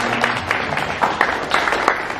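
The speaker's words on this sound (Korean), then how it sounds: "다시 한번 축복의 박수 합니다." A church congregation claps in blessing during a Sunday service, a brief burst of moderately loud applause with a few distinct claps rising out of the mass.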